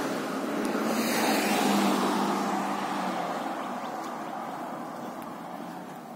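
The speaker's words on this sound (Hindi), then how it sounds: "सिर्फ आपको गाड़ियों की आवाज सुनाई देंगी" Steady traffic on a quiet residential street in the USA, a continuous broad rumble of cars driving past, swelling slightly near the start and then easing off, with no voices.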